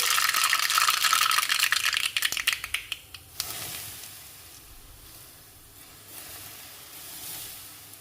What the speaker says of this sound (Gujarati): અને આ ગરમા ગરમ વઘારને આપણે હળદર ઉપર રેડી દઈશું.